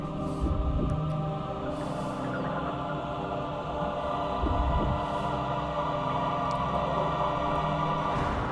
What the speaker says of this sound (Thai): หัวใจเต้นตึกตึก